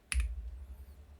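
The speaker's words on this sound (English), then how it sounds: "all you gotta do is press the keybind M on your keyboard" A single keystroke on a computer keyboard, pressing the M key to start a car in the Roblox game Project Ventura: one short, crisp click followed by quiet.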